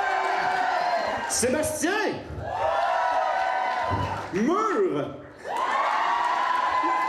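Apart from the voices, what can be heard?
audience cheering and applauding at a cosplay masquerade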